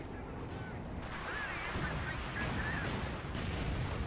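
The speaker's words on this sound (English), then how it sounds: "Light artillery barrage coming down on the Sherman" Light artillery barrage shelling a Sherman tank in a World War II strategy game, heard as a dense, continuous rumble of distant explosions with scattered sharper blasts throughout.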